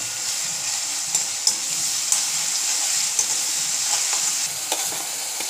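Sliced onions frying with salt in oil for kanda poha, close and fairly loud: a continuous bright sizzle with occasional scraping stir strokes, no talking.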